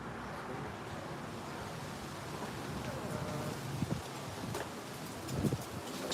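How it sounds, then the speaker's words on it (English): Wind rushes through trees outdoors in a soft, steady, fairly faint wash of noise, with a few louder gusts and rustles toward the end. "It's the wind from the trees."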